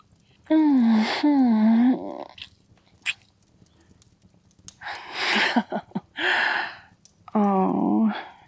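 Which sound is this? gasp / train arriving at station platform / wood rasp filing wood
gasp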